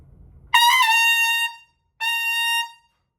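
Two sustained trumpet notes played with relaxed energy, full, clear and loud, with a slight wobble at the start of the first, close and alone with a brief gap between.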